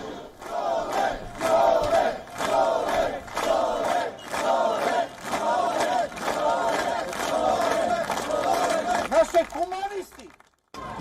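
A protest crowd chants in rhythmic bursts at a rally in front of the Serbian parliament building, the loud, steady pulse of many voices continuing for about ten seconds before breaking off.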